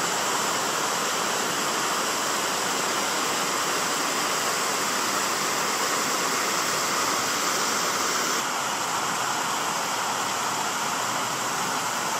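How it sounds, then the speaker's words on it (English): Rushing water of the Corabber River at a waterfall in Donegal's Bluestack Mountains roars as a loud, steady, broadband wash filling the whole stretch, close and continuous with no voices. "I've reached the Corabber River"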